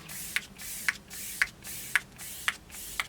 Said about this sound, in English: spray this on